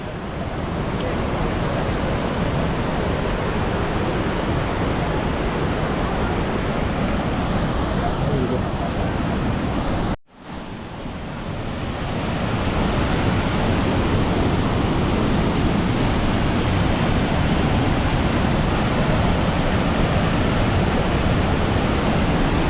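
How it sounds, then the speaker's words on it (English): Loud, continuous Himalayan river water rushing violently over stones roars close by, a dense churning wash that drops out briefly midway before surging back. "the water is so violent and there are a lot of stones"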